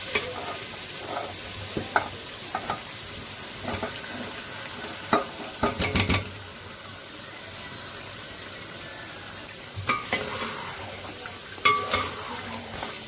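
Chicken pieces fry with tomatoes in a pot for biryani, giving a soft steady sizzle broken by scattered clanks and scrapes of a spoon stirring against the metal, close up with no talk.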